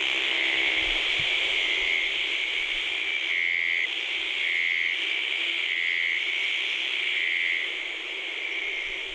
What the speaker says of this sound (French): Des dizaines de crapauds cornus sont là à chanter au milieu de bien d'autres espèces